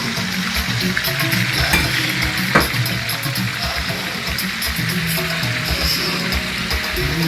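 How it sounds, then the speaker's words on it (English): Koobi fish sizzles and crackles steadily in hot palm oil for a Ghanaian kontomire spinach stew, a close, continuous frying hiss with occasional sharper pops and stirring scrapes. "So we'll start with frying of our kobe."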